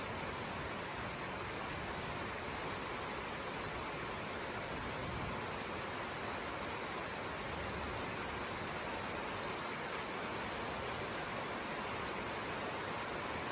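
Heavy rain pours down steadily on Batu Jomba hill in South Tapanuli, an eroding slope of clay and sand. The hiss is dense and constant throughout, with no other sound.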